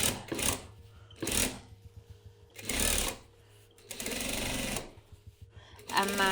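A sewing machine runs in short bursts while topstitching a seam on a tote bag, with a back tack, its whirring stitches alternating with pauses and someone speaking between them.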